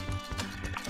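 Horse hooves clip-clop in a quick, steady rhythm in Red Dead Redemption 2, a brief run of several close hoofbeats during a carriage robbery in the game.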